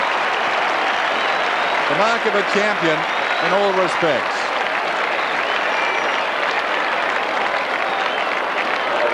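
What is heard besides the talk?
stadium crowd applauding a mark at Australian football match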